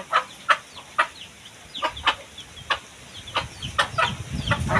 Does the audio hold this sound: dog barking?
no